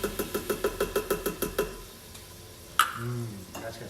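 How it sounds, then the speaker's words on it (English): Kerrygold butter and garlic in an Instant Pot, stirred with quick, evenly spaced taps of a utensil against the pot, about a dozen close strokes, then a single louder clack before a voice speaks. "so I'm just kind of giving that like a little stir"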